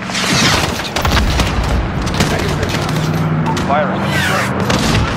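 Dense gunfire and explosions fill a combat mission in Call of Duty Modern Warfare (2019) on PS4 Pro, loud overlapping rifle bursts and booms with radio chatter and shouted voices under the din.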